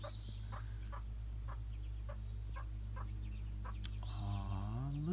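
A mother hen with eleven young chicks gives soft, evenly spaced clucks near a chicken-wire enclosure, ending in a brief rising call over a steady low background hum.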